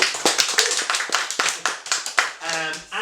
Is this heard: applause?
yes